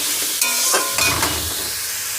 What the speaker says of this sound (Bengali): আর একটু হলেই আমার কিন্তু পুরো শাকটা ভাজা হয়ে যাবে।